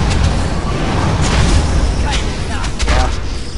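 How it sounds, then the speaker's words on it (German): A loud, rumbling blast from the video game Dragon Age: Origins, with crackling debris and roaring noise, sustained for a few seconds, with a voice faintly audible underneath. "Schöne Explosion."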